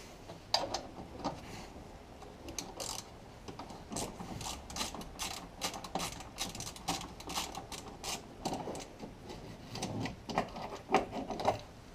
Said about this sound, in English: we're going to remove this 13mm bolt that holds the bracket that holds the battery